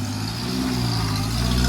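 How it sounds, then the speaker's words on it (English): A little old Morris car rolling out, its engine giving a steady low droning hum with a faint whine, heard alone at moderate distance. "the little Morris B rolling out."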